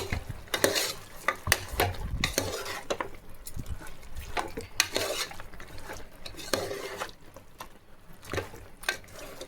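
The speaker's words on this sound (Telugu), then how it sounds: "ఇప్పుడు ఇది ఇంకొంచెంసేపు ఫ్రై కానివ్వండి" Mutton pieces frying and being stirred in oil with chili powder, with scraping and clinking of a spoon against the pan and a soft sizzle, moderately close, no talk.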